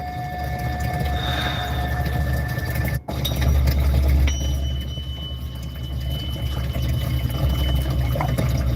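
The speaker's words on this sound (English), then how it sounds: "The water that you listen to is in the Sound Healing Garden." Water trickles and splashes steadily in a sound healing garden, forming a loud continuous wash with faint tonal ringing above it and a brief dropout partway through. No one speaks.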